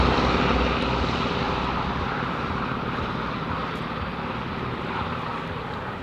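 The Wright Cyclone radial engines of the B-17 Sally B roar loud and continuous as the bomber takes off at an airshow, a dense, rumbling drone that holds steady and fades only slightly.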